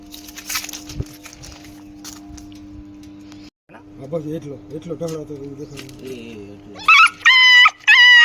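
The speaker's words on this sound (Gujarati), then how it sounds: "અત્યારે આ ગલુડિયાનું રેસ્ક્યુ કર્યું" A rescued puppy whimpers with high, thin cries in short bursts near the end, after a stretch where people talk over background noise and faint footsteps.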